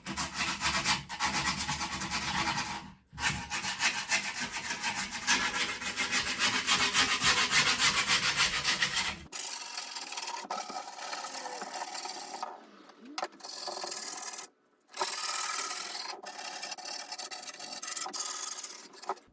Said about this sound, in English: take a little bit of grip tape that you cut off and just go around the edge and sand